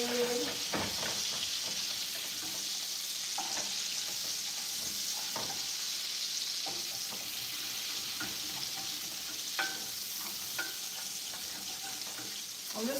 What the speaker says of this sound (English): I'm just scraping the bits off of the bottom, so like the butter is helping lift it